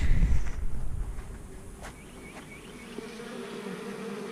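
Honeybees buzz near a hive while feeding on pollen, a close, low, steady hum with a louder rumble at first that then settles into a faint drone.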